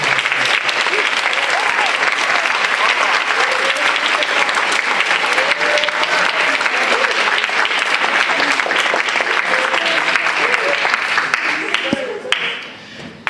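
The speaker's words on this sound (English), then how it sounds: "So I really want to give a big round of applause to Mr. Mercer." A large audience gives sustained applause for an advisor at a capstone event, dense clapping that fills the space steadily for about twelve seconds before tapering off at the end.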